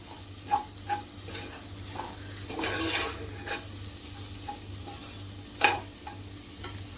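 Masala with turmeric frying in a pan for spicy Koli-style masala dal, a steady low sizzle with a few sharp clinks and scrapes of stirring scattered across it, no voices.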